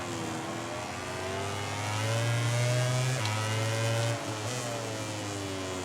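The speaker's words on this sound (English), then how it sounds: "Grabs 4th to get some engine braking going as well to help stop into that left-hander." A racing motorcycle in MotoGP 18 drops into fourth gear for engine braking before a left-hand corner: a steady, close engine drone rises in pitch, then dips sharply near the end as the gear changes.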